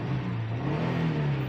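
A 2019 Jeep Grand Cherokee Laredo engine revs after a camshaft replacement, a loud, close, rising mechanical drone with a steady hum that climbs slightly in pitch, with no voices.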